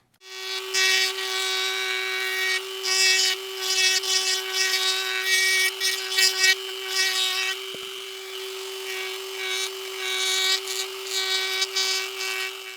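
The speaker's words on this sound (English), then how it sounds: "I'm going to be using this straight carbide burr, and that's going to do a really good job of just kind of cleaning up those lines" A Dremel rotary tool with a straight carbide burr carves a scrap wood feather, a steady high motor whine overlaid with intermittent scratchy grinding bursts as the burr bites the wood, close and loud, no talk.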